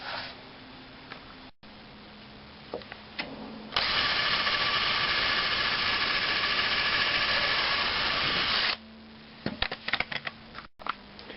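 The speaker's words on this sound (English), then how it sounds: "now I'll just pre-drill those in all of my corners" A power drill whirs steadily for several seconds at close range, pre-drilling the wooden corners of a raised vegetable bed, with clicks and brief tool bursts before and after.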